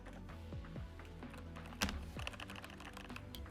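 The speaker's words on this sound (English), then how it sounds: "This wonderful keyboard with wonderful sound, right?" Rapid, crisp keystrokes on a computer keyboard clatter close by in an uneven rhythm, with one louder thwack near the middle, no voices.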